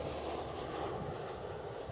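Steady, dense jet engine rumble from an EasyJet Airbus A320 airliner at Amsterdam Schiphol, a continuous broadband roar of moderate level with no break and no voices.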